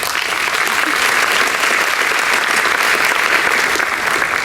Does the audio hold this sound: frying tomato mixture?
no